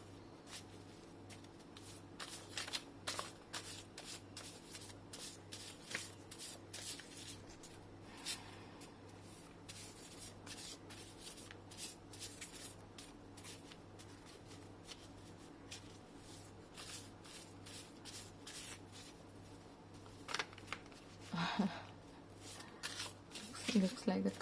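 Tarot cards shuffled by hand in a quiet room, a long run of soft rapid riffles and flicks with brief pauses, a few louder slaps near the end.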